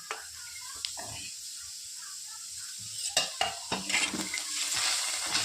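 Garlic tossed into a pan with tomatoes for a green chili thecha, a soft sizzle that grows busier with scraping and clinking of a spoon against the pan in the second half.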